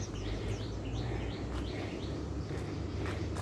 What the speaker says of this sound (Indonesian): Wah, suara burung.